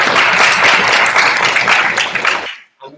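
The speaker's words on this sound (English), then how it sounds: "one last round of applause to all our main speakers" A debate audience applauds: dense, fairly loud clapping from many hands holds steady for a couple of seconds, then quickly tails off and ends, followed by a faint trailing sound.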